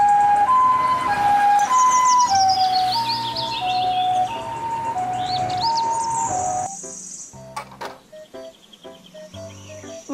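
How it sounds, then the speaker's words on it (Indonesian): An ambulance siren wails in a steady alternating-tone pattern over bright background music for about six seconds, then gives way to sparse clicks and short beeps. "Mobil, ambulans."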